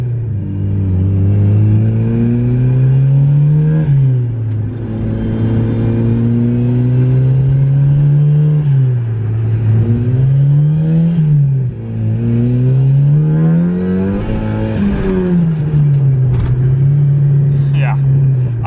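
A car engine drones loud and steady from inside the cabin, rising and falling as it revs and eases off, with faint crackles on lift-off, and a voice talking over it.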